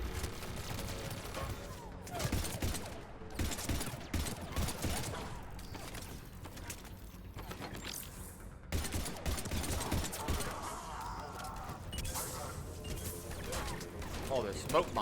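Gunfire from the video game Mass Effect 3 during a weapon switch: dense, rapid bursts of shots and clattering mechanical clicks that run steadily through the whole stretch, mixed with other loud game effects.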